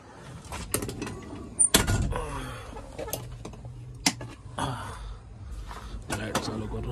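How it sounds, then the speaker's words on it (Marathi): The door of a Tempo Traveller van being opened, giving a loud latch clunk and the heavy slide and thump of the door, with other knocks around it while someone talks nearby. "दरवाजा खोल आता."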